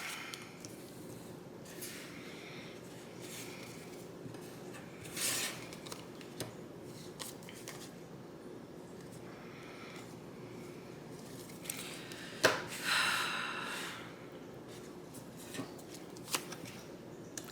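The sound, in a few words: tarot cards being shuffled and drawn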